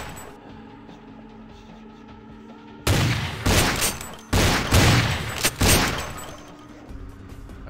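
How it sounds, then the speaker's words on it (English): Rapid bursts of gunfire ring out in the game Vampire: The Masquerade Bloodlines as barrels are shot, several loud sharp volleys clustered over a few seconds after a quiet ambient stretch. "just shoot the freaking barrels"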